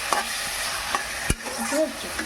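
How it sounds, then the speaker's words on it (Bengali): Boiled taro stolons are stir-fried with spice paste in a pan, giving a close sizzle broken by scraping stirs and one sharp clank of the spoon, with no talk. "এই যে লতিটাকে মশলার সঙ্গে কষিয়ে নিচ্ছি"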